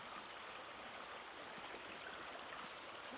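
A small stream flows steadily during a trout spin-fishing outing, a constant soft broadband rush of moving water heard alone, even and unbroken throughout.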